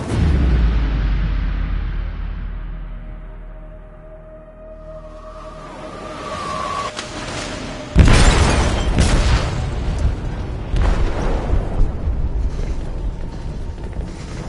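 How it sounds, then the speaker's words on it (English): A heavy explosive detonation booms inside a ship's hold in Detroit: Become Human, a sharp loud blast followed by sustained roaring rumble and clattering debris, after a low droning buildup. "They detonated an explosive in the hold."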